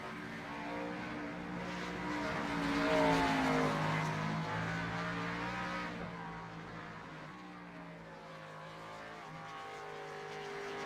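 A race car engine in the iRacing sim at the Charlotte Roval drones steadily and loud, its pitch climbing and falling through gear changes and corners, with no talk over it.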